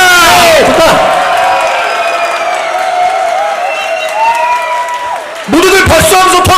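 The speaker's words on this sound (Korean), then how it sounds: "모두들 박수 함성 더 보내주세요." Church congregation cheering and clapping during a Christmas Sunday children's program, a loud crowd roar with shouts and whoops that swells, dips slightly, then surges again near the end.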